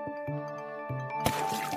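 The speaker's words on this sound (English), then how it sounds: "Suddenly, the ant lost his balance and fell into the river water." An ant falls into river water with a small, brief plop and splash, heard against soft, steady background music.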